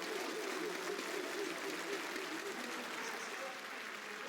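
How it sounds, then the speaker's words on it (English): A crowd claps for one team at an esports invitational main-stage match between Wildcard and Team Secret. The applause is a steady, fairly faint patter that continues throughout. "One side all for the claps, the other side not so much."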